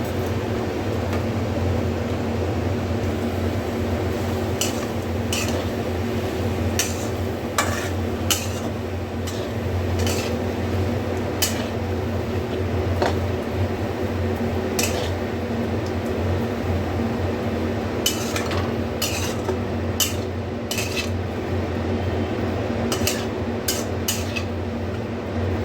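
Spatula or spoon clinking and scraping against a pan while soybean chowmein spaghetti is stirred, irregular sharp taps over a steady kitchen hum, with no talking.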